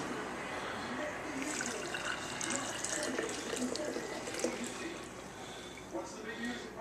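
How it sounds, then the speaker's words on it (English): Broth poured through cheesecloth into jars, a steady close splashing and trickling stream running without break, like a tap filling a sink. "now we're filling the jars with the broth, and we're straining it with some cheesecloth."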